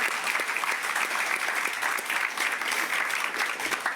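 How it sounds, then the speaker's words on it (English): Audience applause at a press conference welcoming a coach's wife: steady, dense clapping from a crowd indoors, fairly loud and continuous throughout. "A round of applause."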